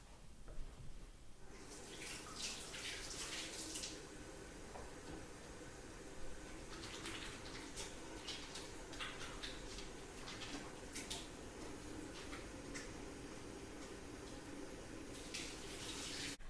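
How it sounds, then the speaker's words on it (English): Running tap water pours steadily into a sink while hands are washed, a close, constant splashing with brief bursts of brighter spatter, no voices. "So now I'm going to wash my hands for 20 seconds."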